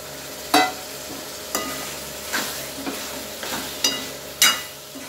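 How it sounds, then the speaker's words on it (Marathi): Cooked mutton being stirred and sautéed in roasted masala in a pan, a soft continuous sizzle broken by about six sharp scraping strokes of a spoon at irregular intervals, close and without talk. "छान परतून घेतो."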